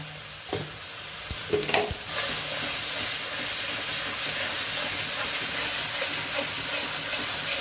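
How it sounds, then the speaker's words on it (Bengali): Chilli, turmeric, onion, garlic-ginger paste, cardamom, cloves and cinnamon fry in a pan for a prawn curry, starting with a few sharp scrapes of stirring and then settling into a loud, continuous hiss and sizzle with no talking. "এবার দিয়ে লঙ্কা হলুদ পেঁয়াজ রসুন আদা বাটা এলাচ লবঙ্গ দারচিনি দিয়ে নাড়লাম।"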